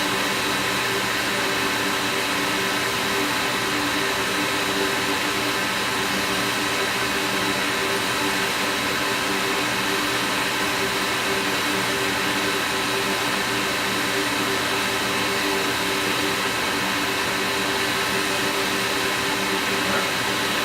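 A hot air rework station blows steadily to desolder a PS4 HDMI port, a loud, unbroken whooshing hiss that runs the whole time with no pauses.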